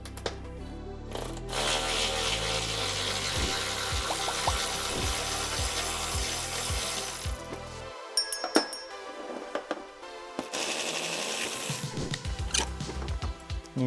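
A hand ratchet backs out T40 Torx bolts holding the X brace on a C8 Corvette, giving close, repeated metallic clicking strokes over a steady background, a short pause, then more clinking tool work.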